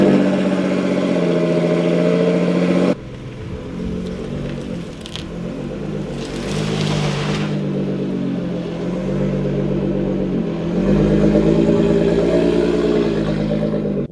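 A freshly wrapped Nissan GTR engine idling, then pulling away and driving, with a steady mid-pitched hum that rises and falls as the car moves, fairly loud and close throughout.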